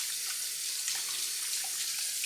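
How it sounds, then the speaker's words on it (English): A water tap runs steadily into a sink during handwashing, with an even splashing hiss that is unbroken and close, and no one speaking. "You should really always wash your hands."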